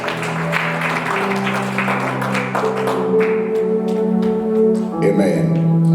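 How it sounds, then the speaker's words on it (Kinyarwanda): Church congregation at an apostle's installation service claps their hands together in steady applause, the clapping continuing for several seconds amid sustained voices and musical tones. "Let's give the Lord a hand clap."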